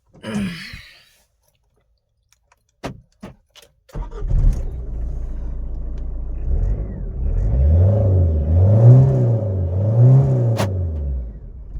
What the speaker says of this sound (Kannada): ಡೀಸೆಲ್ ಇಂಜಿನ್ ಗಾಡಿ ಸೌಂಡ್ ಕೇಳೋಕ್ಕೆ ಮಜಾ ಆಗು ಗೈಸ್